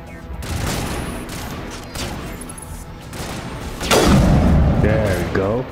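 Sniper rifle fire in the video game Mass Effect, several booming shots and thuds amid other combat noise, with a sharp loud burst near the end and players talking over it.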